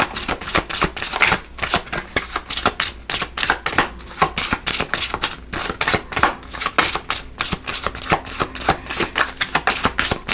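Tarot cards being shuffled by hand during a monthly reading, a close, busy run of crisp riffling and slapping bursts repeating steadily with no voices.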